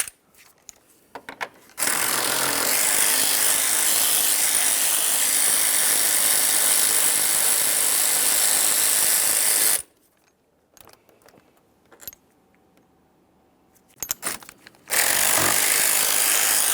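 A ratchet working 13mm radiator mounting bolts loose on a 2015-2020 Ford F-150 with the 3.5L engine, giving a loud, close, continuous mechanical whirring run, a quiet gap with faint clicks, then another loud burst.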